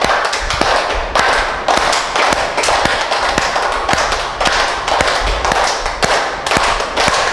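Palms with fingers and thumbs touching are struck together forcefully in a yoga breathing exercise, a loud, fast, regular series of sharp slaps repeating for several seconds.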